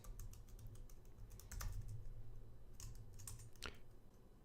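Fingers type a password on a computer keyboard, a brisk run of soft, close key clicks in uneven bursts over a low steady hum, with no talk.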